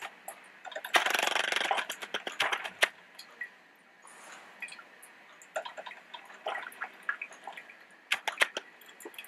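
A Melitta Gevalia BCM 4C coffeemaker brews, with close gurgling, hissing bursts and irregular drips and spurts of hot water, loud at first and then settling into scattered sputters.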